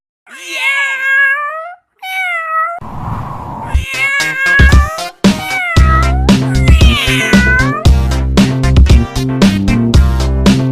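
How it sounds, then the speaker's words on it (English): A cat meows several times, the first calls drawn out and wavering, before a bouncy children's song with percussion comes in loudly and carries on. "Cat."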